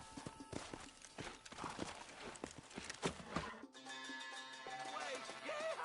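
In the Red Dead Redemption video game, a horse's hooves clip-clop in quick uneven beats on the ground for about four seconds. Then the hoofbeats stop and give way to a steady musical and ambient bed.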